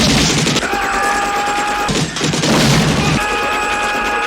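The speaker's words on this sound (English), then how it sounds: "some Jamaicans bust in and start shooting up the place" Rapid bursts of gunfire and crashing chaos erupt in a film scene of a crack house raid, loud and dense over a blaring music-like tone, with a short break before the shooting resumes.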